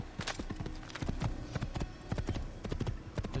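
Horse hooves clip-clop in a rapid galloping rhythm through Assassin's Creed gameplay, with steady close hoofbeats and faint background voice.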